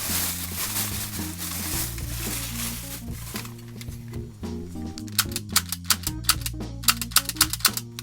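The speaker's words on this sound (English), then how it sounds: "this one just had this kind of cocking feature, which is pretty fun actually" Sharp plastic clicks from the cocking mechanism of a Power Rangers S.P.D. toy blaster snap out in a quick, even series near the end, over steady background music.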